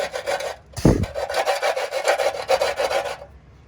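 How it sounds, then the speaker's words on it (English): Rough, rhythmic scraping of a tool along a 2002 Toyota 4Runner frame as old dealer-installed undercoat, dirt and small rocks are stripped off. One sharp thud breaks in early, then fast, steady rasping strokes continue before stopping. "I'm going to take this and just scrape this off"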